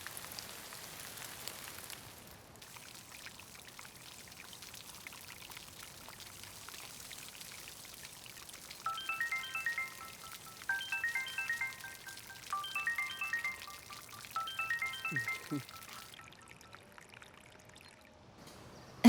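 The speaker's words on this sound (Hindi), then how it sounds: "मैं तो पौधे में पानी डाल रही हूँ।" Water poured onto plants, a soft continuous trickle and splash, faint and steady, while a ringtone-like electronic melody repeats in short bursts over the top.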